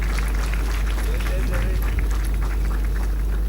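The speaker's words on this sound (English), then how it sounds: "So a round of applause for surviving the COVID pandemic." Applause from an audience at a graduation ceremony, a dense, steady wash of many hands clapping that fills the whole stretch, with crowd murmur beneath.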